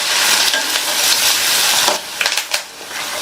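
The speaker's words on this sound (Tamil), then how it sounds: "இதை லைட்டாக வதக்கி விட்டுக்கலாம்." Onion, curry leaves and slit green chili sauté in a pan with a loud, continuous close sizzle, then a few sharp scrapes and clanks of a spatula stirring near the end.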